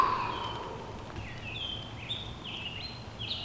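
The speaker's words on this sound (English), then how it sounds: "We'll listen to the birds chirping." Faint birds chirping outdoors, a few short whistled calls scattered over a soft, steady background hush.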